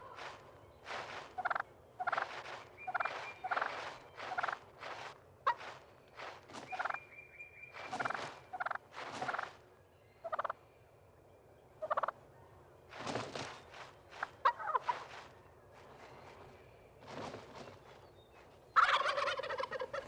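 Wild turkey gobblers in a flock during breeding, giving repeated rapid gobbling bursts at irregular intervals through the whole stretch, moderately distant outdoors with short gaps of quiet between calls.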